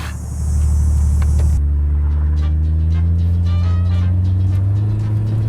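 A Jeep inline-six engine idles and then revs up, settling into a deep, steady roar with rising harmonic tones as the vehicle accelerates, loud and close.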